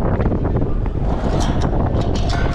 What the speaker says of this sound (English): Sorry if you can't hear that much, because it is really windy.